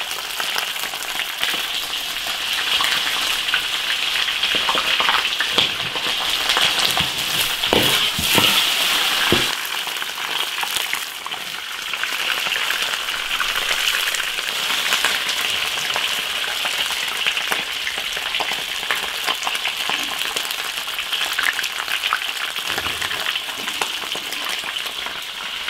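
Fish fries in a hot iron wok with a continuous, loud crackling sizzle that carries on steadily, with occasional sharper spatters partway through and no talking.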